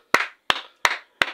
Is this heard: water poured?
no